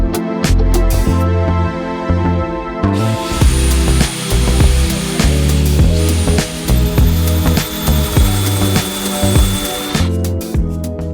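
A power drill bores into a lintel during a training session, its whirring, grinding bursts pulsing steadily at close range over a busy, dense background.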